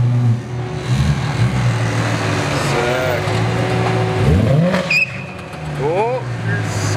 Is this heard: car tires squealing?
yes